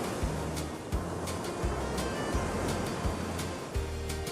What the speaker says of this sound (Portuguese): o ritmo do mar.